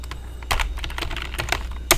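Rapid, uneven keystrokes on a computer keyboard, close and fairly loud, with clustered taps and a sharper final press, no voices.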